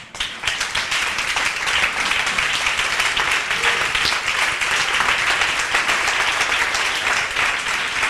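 A church congregation applauds in praise, a dense and loud wash of many hands clapping continuously at close range, sustained evenly for several seconds.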